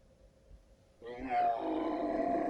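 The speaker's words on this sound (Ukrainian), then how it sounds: "Це, мабуть, речить динозавр." After a quiet moment, a deep, rumbling dinosaur roar swells up and sustains loudly, growling and rough in texture.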